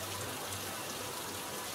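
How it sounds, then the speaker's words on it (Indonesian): Steady rain falls outdoors as an even, soft hiss with no distinct drops or voices. "Hujan juga kayak gini"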